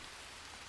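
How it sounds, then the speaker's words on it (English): Steady rain in a video game set in the Amazon rainforest, a dense, even hiss of drops filling the brief moment with no voices. "Oh, it's raining."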